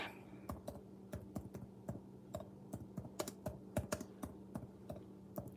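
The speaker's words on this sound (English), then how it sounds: "Hillary, I'm going to type this in." Typing on a computer keyboard: a quick, uneven run of crisp key clicks close to the microphone, carrying on steadily for several seconds with no talking over it.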